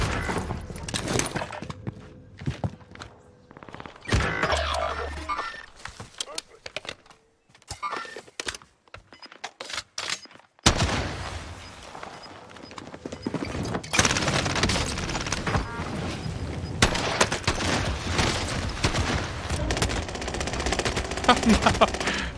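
Repeated hip-fired shots from a Rytech rifle in the game Warzone come in uneven bursts with quiet gaps, sharp and close, against busy in-game noise.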